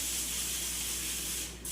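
Olive oil, organic, sprayed from a can onto strips of foil in a home kitchen while preparing an 18-pound turkey: a steady close hiss that runs nearly two seconds and then cuts off.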